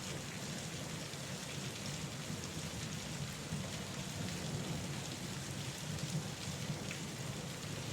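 Steady, dense rain pours without a break, a constant loud hiss with a low rumble underneath and no voices.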